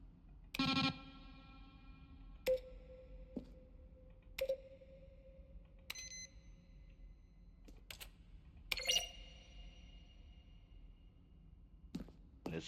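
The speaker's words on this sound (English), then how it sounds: "Each sound is a mix of a keyboard stroke and a synthesized tone." Button-press sounds from The Stanley Parable Ultra Deluxe, each a keyboard stroke blended with a synthesized tone: a handful of separate clicky beeps with short ringing tones, spaced irregularly over a quiet background.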